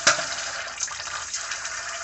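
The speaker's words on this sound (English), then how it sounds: "We're going to turn on the cold water. And we're going to rinse them." Cold tap water runs steadily into a kitchen sink as raw chicken livers are rinsed, a soft continuous hiss and splash with a small burst of splashing at the start and no talking.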